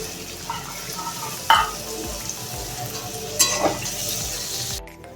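Soaked chickpeas frying in hot oil in a pan for a prawn and taro-stolon curry, a steady sizzle with two brief sharp spatters and stirring scrapes, close and alone.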